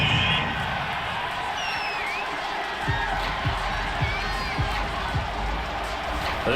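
Home crowd cheering in the football video game Madden NFL, a dense continuous roar with whoops and shouts over steady stadium noise, with rhythmic thuds underneath.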